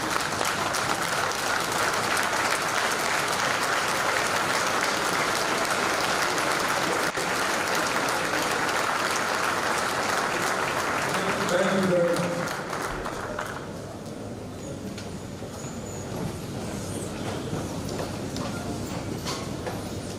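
Audience at a NAFRC passing out ceremony for Course 1/2025 applauding steadily in a large hall, a sustained wash of clapping that fades off to quieter room sound after about thirteen seconds.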